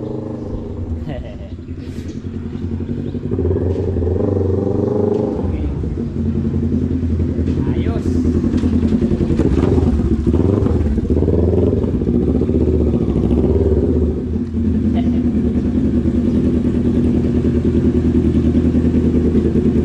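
A motorcycle exhaust rumbles steadily and loudly up close, a continuous low engine drone with clattering over it, while people talk throughout.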